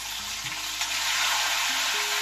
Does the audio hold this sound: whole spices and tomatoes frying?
yes